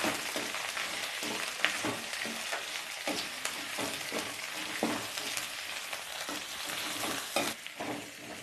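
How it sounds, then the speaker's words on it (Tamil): Chopped big onions sauté in a pan for a spicy kaara chutney, an even frying sizzle broken by frequent spatula scrapes and stirring knocks, close and moderately quiet. "பெரிய வெங்காயம் கட் பண்ணி வச்சுருக்கேன், அதையும் போட்டுக்கலாங்க. நல்லா வதக்கி விட்டுக்கலாம்."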